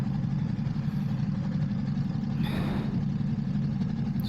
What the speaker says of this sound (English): So these are the pipes, the termies, slip on, they sound good.